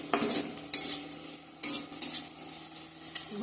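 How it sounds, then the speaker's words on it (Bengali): Garlic, dried chili and a bay leaf hit hot oil for a Bengali tempering, giving a close sizzle broken by several sharp bursts of stirring and utensil scrapes against the pan. "রসুন শুকনো লঙ্কা তেজপাতা, ফোড়নে দিয়ে দিছি।"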